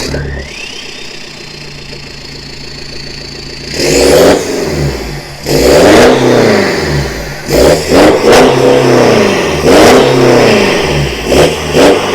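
A BMW E60 520d diesel engine with a remote-controlled exhaust revs up hard several times in bursts, loud and close, with a rough idling rumble between the revs.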